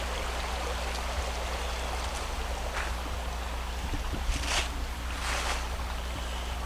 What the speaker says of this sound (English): I'll be able to listen to this water run all night long